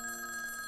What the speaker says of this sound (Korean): 그런데 그때 벨소리가 울려옵니다.